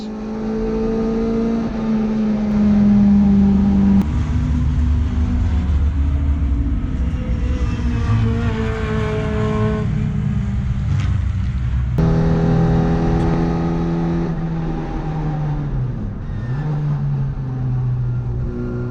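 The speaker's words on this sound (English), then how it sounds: "So that is a McLaren. It's either a 720 or a 570. I think it might be a 720. That is a serious car." A McLaren 720 or 570 sports car circles the Brands Hatch circuit on a track day, its engine a loud, sustained roar that rises and falls through gear changes as it passes close by.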